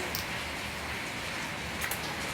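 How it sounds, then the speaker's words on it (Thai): Steady rain falls in a continuous soft hiss, with occasional brief taps of drops standing out. "ฝนตก"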